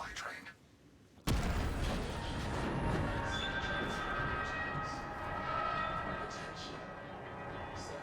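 A supply train in a Warhammer 40K video game bursts in after a moment of near silence: a loud, sustained mechanical rumble with metallic clanking, with voices faintly underneath.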